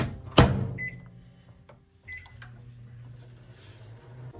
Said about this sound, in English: we are going to melt this in the microwave